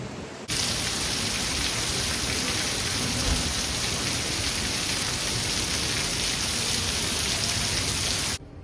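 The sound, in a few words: rain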